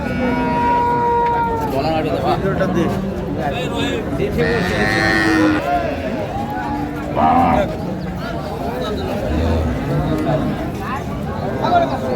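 Cows with calves at a cattle market in Ambari, Dinajpur, moo repeatedly, several loud close lowing calls rising over a busy hum of crowd chatter and voices talking throughout.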